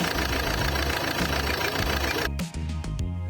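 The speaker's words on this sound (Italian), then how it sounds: "Risentiamo il dolce rombare del motore" A vehicle engine, just repaired by a mechanic and blacksmith at about 4000 m altitude, runs steadily with a loud, continuous mid-pitched rumble that thins out and falters briefly near the end.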